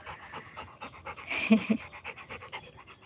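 A dog pants rapidly and rhythmically close by, quick breathy huffs with a brief whimpery bump partway through.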